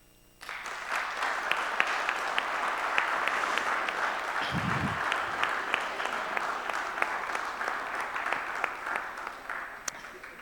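Sustained audience applause for students at an Italian school event on a dual apprenticeship diploma program, starting abruptly and holding steady at moderate loudness, with a few isolated sharp claps standing out and a brief low thump partway through.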